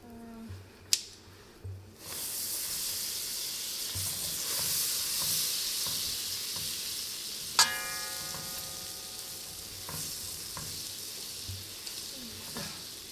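Salted butter melting in a hot pan gives a steady soft sizzle and hiss, close and moderately loud, with a few clinks of a stirring utensil on the pan and no voices.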